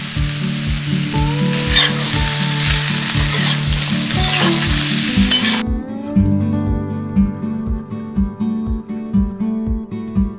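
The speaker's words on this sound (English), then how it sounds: "We will now shallow fry the boiled jackfruit." Boiled raw jackfruit shallow-fried in oil with turmeric sizzles steadily under a background of rhythmic, beat-driven music, with the frying clearer in the first half before the music takes over.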